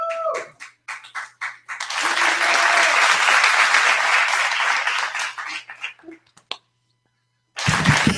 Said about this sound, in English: Make some noise for Gwiggy, ladies and gentlemen